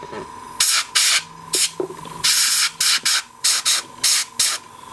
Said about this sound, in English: Just blowing the area with air, forcing the kind of isopropyl alcohol to kind of evaporate off